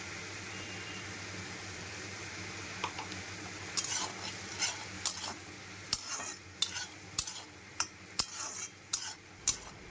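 A spoon stirs fish masala with cumin, chili powder, salt and turmeric as it slowly fries in a pan. Sharp, regular scraping strokes ring out over a faint, continuous sizzle.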